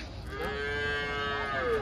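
At a cattle market, a single cow lets out one long, sustained moo at moderate distance, carried over a low background murmur.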